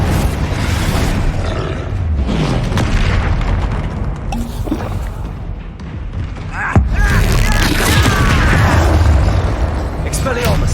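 Confringo blasting spell explosions in Hogwarts Legacy combat, a continuous barrage of booms and fiery bursts over dense battle noise, with a player voice casting spells throughout.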